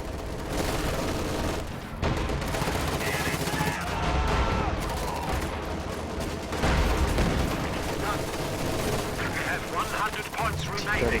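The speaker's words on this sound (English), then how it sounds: "Katusha is barraging this area." Katyusha rocket artillery barrage in a war video game: a dense, continuous roar of overlapping blasts and booms that rolls on throughout, with a commentator talking over the battle.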